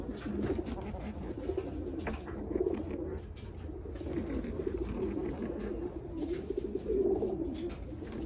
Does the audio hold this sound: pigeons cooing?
yes